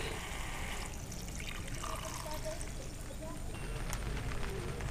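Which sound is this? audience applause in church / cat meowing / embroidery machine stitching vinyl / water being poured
water being poured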